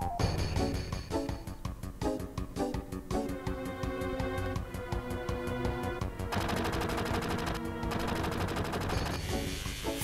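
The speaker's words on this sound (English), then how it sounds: "Finally, Barret's machine gun. Machine gun does something." Barret's machine gun in Final Fantasy VII fires in sustained rapid bursts inside a dense, loud game mix with music, the rattling continuing steadily throughout.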